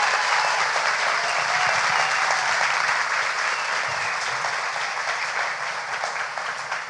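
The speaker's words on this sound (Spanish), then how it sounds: "le damos un aplauso de bienvenida muy especial a María Paulina" A large audience at a science talk gives dense, sustained welcoming applause that holds steady and loud for several seconds before easing slightly, with no speech over it.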